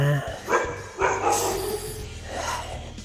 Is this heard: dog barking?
yes